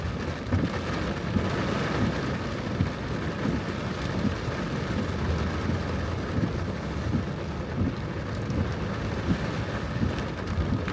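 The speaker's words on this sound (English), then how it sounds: "Jesus, it's raining." Heavy monsoon-like rain falls in Washington, a dense continuous roar with low rumbling wind buffeting the microphone, steady and loud throughout with no voices.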